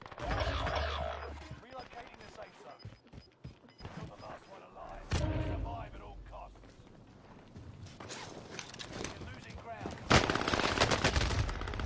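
Rapid bursts of gunfire crackle through a shooter video game round, overlapping with loud excited talk from players and busy game effects, the shots coming in clusters rather than single spaced pops.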